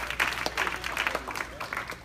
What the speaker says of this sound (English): Everybody just give the Lord a hand clap right there.